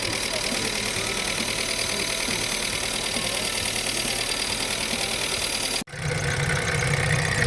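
A rebuilt Volkswagen Polo engine runs at a steady idle, loud and close, with a continuous mechanical rattle. Near the end it cuts out for an instant before resuming.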